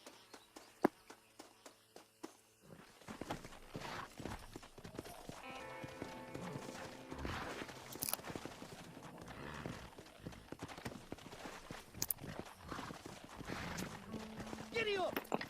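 Horse hooves clip-clop at a steady walking pace in the Red Dead Redemption video game, moderately loud and near, mixed with other game sounds and occasional talk.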